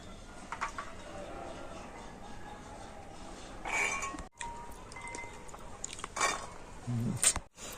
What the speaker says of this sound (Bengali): এখন আমি এই মটরশুঁটিগুলো ধুয়ে ধুয়ে মিক্সি জারের মধ্যে দিয়ে দেব